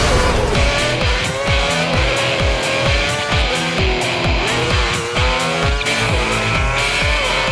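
Formula One race cars roar in the F1 2010 video game, with engines howling and shifting pitch continuously while tires squeal, all loud and layered over a steady driving rhythm.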